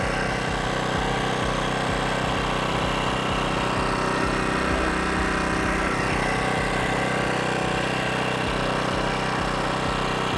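A compact inverter generator runs steadily while still cold, heard close up from about 30 centimetres away, with a constant mid-pitched engine drone and a faint pulsing low rumble throughout.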